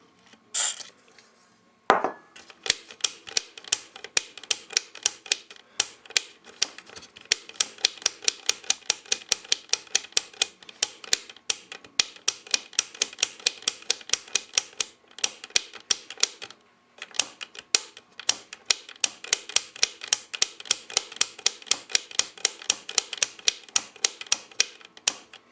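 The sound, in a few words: Realistic SA-101 switch pushed and sprayed with contact cleaner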